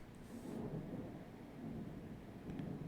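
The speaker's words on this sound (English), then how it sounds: "we got a hella storm going on" A thunderstorm with a long, low rumble of thunder swelling and fading over steady rain-like hiss, heard from indoors, with no talk.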